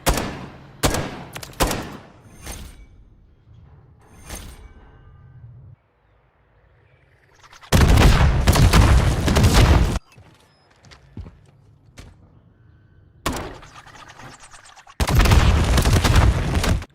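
Underbarrel launcher tubes in Modern Warfare III fire in a quick cluster of sharp thumps, followed by several loud, sustained blasts of explosions spaced apart across a quarry map, with quiet gaps between.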